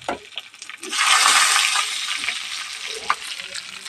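Mustard seeds, curry leaves and green chilies hit hot oil in a pan for a tempering, bursting into a loud, dense crackling sizzle that holds steady with a few sharp pops, close by.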